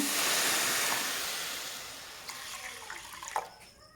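Water is poured from a vessel over soaking lentils in a home kitchen, a splashing gush that starts strong and slowly fades, followed by a few faint clinks and drips.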